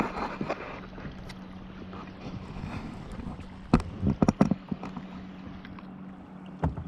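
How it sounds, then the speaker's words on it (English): A boat motor hums steadily on the open Missouri River, with wind buffeting and a few sharp knocks and splashes nearby. "Do I hear another boat coming?"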